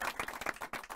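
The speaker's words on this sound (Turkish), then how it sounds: "Mero'ya bir alkış." Brief burst of clapping and applause from a small group in a Turkish rap show studio, dense overlapping hand claps lasting about a second at moderate volume.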